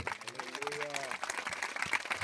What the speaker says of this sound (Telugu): మీరు చప్పట్లు కొట్టి ప్రభుని స్థుతించాలి